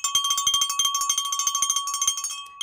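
A live stream notification bell chimes in a rapid run of bright, repeated dings that fade out near the end, with no talking.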